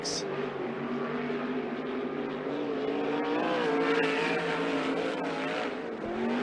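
Sportsman sprint cars running hot laps, a continuous loud engine roar that swells slightly as cars pass and fades near the end, with no talk heard.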